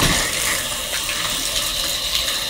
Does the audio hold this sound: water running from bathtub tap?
yes